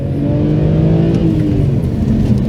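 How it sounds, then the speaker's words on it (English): A BMW 130i six-cylinder hatchback engine revs hard and loud, its exhaust note rising as it accelerates close by, with a steady mechanical roar throughout. "It makes an equally good noise, but with a slightly more potent exhaust."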